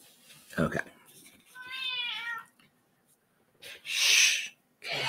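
An indoor house cat gives one clear, drawn-out meow, followed by a sharp sneeze-like burst and breathy snorts, with a person's voice briefly heard.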